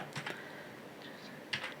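Faint, sparse keystrokes on a computer keyboard as a user ID and password are entered into an online exam application form, a few light clicks in small clusters with no talking.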